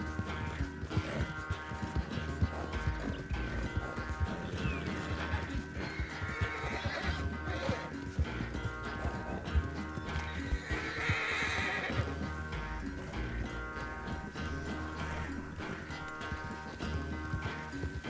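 In Red Dead Redemption 2, a horse whinnies loudly while hooves clip-clop steadily over a dense bed of game sound and music.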